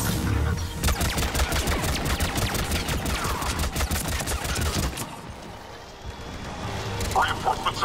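Sustained rapid weapon fire in a Mass Effect 3 battle, loud and continuous for several seconds before easing, with radio-style voices talking over the combat.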